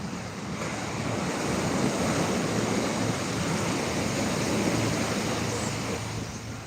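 Steady ocean surf washing onto a beach, a continuous broadband roar that swells and eases, with some wind buffeting the microphone and no voices.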